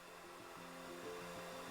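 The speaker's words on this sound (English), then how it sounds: "I diffuse with low heat and low speed" Hair dryer fitted with a diffuser blows on low heat and low speed, a faint steady whir with a soft pulsing hum, and nobody talks.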